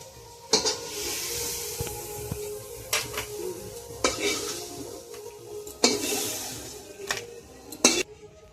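Chicken sizzles steadily in a frying pan while a utensil repeatedly scrapes and clanks against it in irregular strokes.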